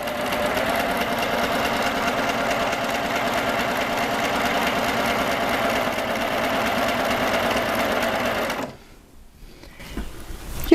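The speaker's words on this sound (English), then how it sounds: "I have the machine all set up, and I'm just going to stitch a narrow cover stitch in the air" Baby Lock sewing machine running a narrow cover stitch in the air with no fabric, a steady, fast mechanical whir and rapid needle chatter held for about eight seconds before cutting off abruptly into near silence.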